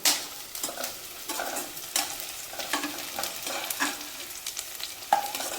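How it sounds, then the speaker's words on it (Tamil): Chopped onions with garlic frying in a pan for tomato rice, a steady close sizzle broken by repeated scraping stirs of a spoon, with no talking. "இன்னும் கொஞ்சம் வதங்கணும் வெங்காயம் வதங்கிடுச்சு"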